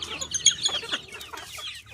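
Chickens, both chicks and grown hens, clucking and peeping close by under shade trees, a quick irregular burst of soft clucks and high chirps with no talking.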